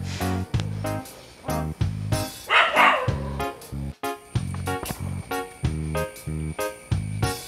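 A neighbouring house's dog barks repeatedly in loud, close bursts of woofs and yips, with brief pauses between volleys and no talking.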